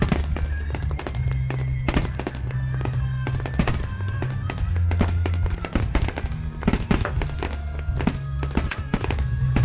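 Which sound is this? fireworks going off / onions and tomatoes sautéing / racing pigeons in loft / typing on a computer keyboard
fireworks going off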